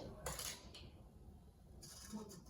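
Metal cutlery and a cooking pot clink and scrape in a home kitchen during meal preparation. The knocks are scattered and moderately close, over a steady background hiss.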